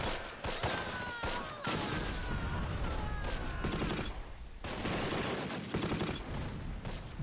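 MG42 machine guns fire in a World War II battle at Arnhem in the Close Combat: Last Stand Arnhem strategy game, dense overlapping bursts and rapid gunshots crackling nonstop with brief lulls, loud and chaotic with distant shots mixed in.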